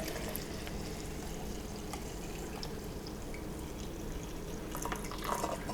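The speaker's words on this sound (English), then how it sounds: "I wanted to show you pouring this cup of coffee into this mug" Coffee poured from a brewer into a big mug, a steady close liquid stream with dripping and trickling over an even background, brightening slightly near the end.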